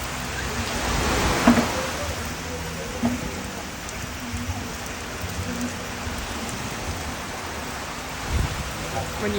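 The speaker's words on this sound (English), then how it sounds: "Rainy day at the beach." Rain falls on a beach in Jamaica as a steady, even hiss filling the whole stretch, with a few louder swells and faint voices in the background.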